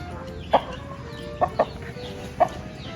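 Chicken in a Thai backyard giving a few short, sharp clucks spaced across a few seconds, close by over a steady background hiss.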